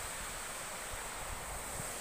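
The Curug Sodong waterfall roars as a steady, broad, hissing rush of falling water heard close and fairly loud, unbroken and without voices.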